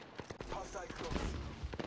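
Rapid gunfire in the video game Apex Legends during a livestream, with dense bursts of shots and fusillade-like crackle, loud and continuous, mixed with faint voices.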